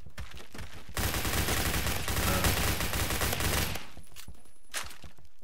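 Rapid automatic L58A2 gunfire in the Roblox shooter Phantom Forces, a dense burst of shots lasting about three seconds, loud and close, followed by quieter scattered game noises.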